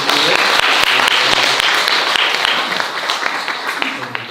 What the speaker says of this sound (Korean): 우리 박수 한번 보내드릴까요?